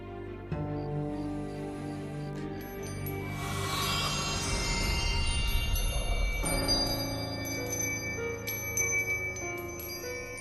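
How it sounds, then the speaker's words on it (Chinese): An eerie demon bell rings with sustained metallic tones that swell into a dense shimmering wash midway, then settle back to lingering ringing partials, alone with no talk. "是妖铃声。"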